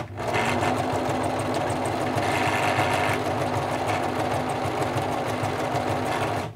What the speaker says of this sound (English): you can literally just start sewing there